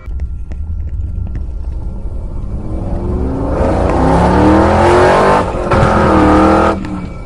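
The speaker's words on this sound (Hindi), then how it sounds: "और फिर रॉड बाइक को काफी तेज भगाता है" A motorbike in an animated story speeds away with a loud engine roar that climbs in pitch and swells over several seconds, then drops off near the end, with no talk over it.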